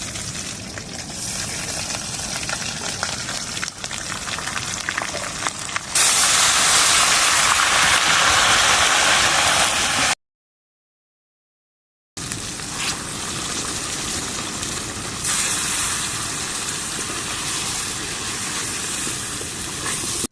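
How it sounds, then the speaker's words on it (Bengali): Spice paste for a pangas fish curry fries hard in oil over a clay stove, giving a loud, steady hiss and sizzle that swells sharply partway through, drops out for a moment, then sizzles on. "তারপরে এখন ভালো করে পেস্টটাকে ভালো করে ভাজা করে নেবো।"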